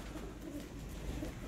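Pigeons of a rare breed, kept by a pigeon fancier in Sialkot, coo softly in low, repeated murmurs against a quiet background, with no talk over them.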